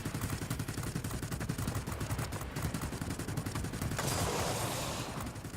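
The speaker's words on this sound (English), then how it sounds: "So I shoot up the 215, put them under tail fire." Rapid machine gun fire rattles in a flight sim dogfight as a 215 bomber is shot at from behind, dense sustained bursts over a steady engine drone, loud and close, with no talking.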